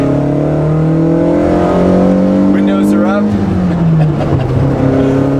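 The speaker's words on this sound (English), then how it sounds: "you can hear the intake and the exhaust enough to know that this isn't a stock E30 M3" A modified 1990 BMW E30 M3 engine drones steadily with rising and falling revs, a throaty intake and exhaust note heard from inside the cabin on a country farm road while someone talks over it.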